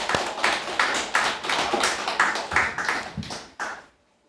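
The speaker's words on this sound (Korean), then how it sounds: "다 같이 박수로 서로 격려합시다." A church congregation at a Christmas Sunday service claps together, a string of rhythmic, fairly even hand claps that stops abruptly near the end, leaving silence.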